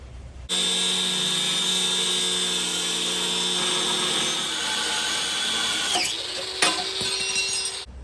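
A power tool cuts through the sheet metal of a Harley hot rod chopper fuel tank with a loud, steady, high-pitched grinding whine that runs for several seconds, then drops and stops abruptly near the end.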